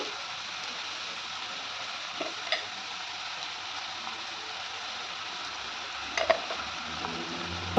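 Green chillies and onions fry steadily in a pan for egg pulusu, a faint even hiss that runs throughout, with a few light clicks and taps from a utensil near the end.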